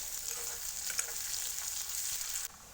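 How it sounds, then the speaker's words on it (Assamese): Onions frying in oil until reddish, a bright, steady sizzle close to the pan that cuts off abruptly near the end. "পিঁয়াজটো অকণমান টাইম ভাজিম ৰঙচুৱা হোৱালৈকে।"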